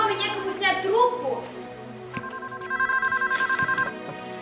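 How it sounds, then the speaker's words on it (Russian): A telephone rings in a home, a repeating electronic ring pulsing steadily in the second half after someone speaks over it earlier. "Мама, Мия, у нас что, в доме некому снять трубку?"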